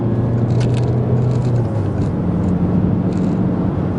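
A Peugeot 508 accelerates along a motorway, giving a loud, steady cabin drone of engine and road rumble with a slowly shifting tone and no break.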